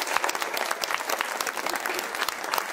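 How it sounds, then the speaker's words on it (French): Audience at a school cabaret evening applauding, dense steady clapping throughout, loud and close, with no voices over it. "On l'applaudit quand même."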